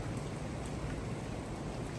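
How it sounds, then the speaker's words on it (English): Light rain falls steadily and evenly throughout, a soft continuous patter close by during a New Jersey windstorm, with no voices. "It's raining just a little bit."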